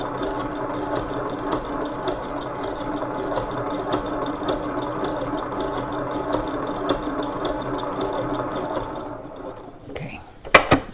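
An electric mixer whirs steadily through madeleine batter for about nine seconds at a constant hum, then cuts off, followed by a couple of knocks.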